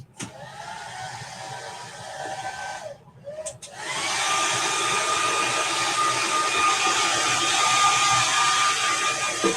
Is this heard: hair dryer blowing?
yes